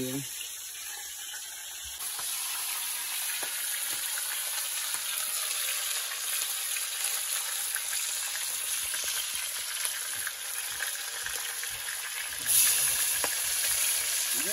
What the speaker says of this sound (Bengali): মাছ রান্না হচ্ছে।